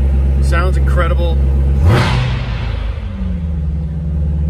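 A 2017 Corvette Z06 with the Z07 package revs once, loudly, near the middle, then falls back to a deep steady idle rumble. A voice is briefly audible at the start.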